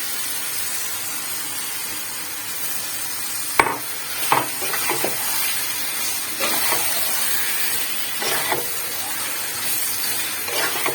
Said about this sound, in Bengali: এবার আমি ম্যারিনেট করা চিকেনটা ঢেলে দেবো।